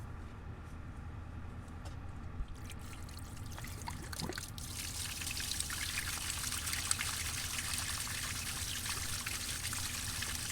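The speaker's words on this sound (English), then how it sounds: "turn the water on, and now we're going to be paying attention to this hose right here" Water runs through a hose to flush the heater core of a Dodge Ram with a Cummins 6.7L engine, beginning as a faint trickle and swelling into a steady rushing flow close by, with no talk.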